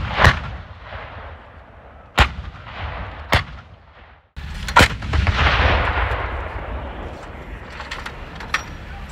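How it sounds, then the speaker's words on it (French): Live-fire artillery from a multinational NATO battalion (French, Belgian, Spanish and Luxembourg troops) during the Dacian Fall 2025 exercise in Romania: several heavy booming shots spaced a few seconds apart, each one ringing out over a long rolling echo outdoors. "Le bataillon d'artillerie dont je suis le chef réalise ici son premier exercice de tir"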